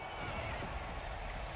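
A horse neighs in the Mount and Blade II Bannerlord game, a long whinny over a dense bed of battle noise and hoof clatter, with no voices.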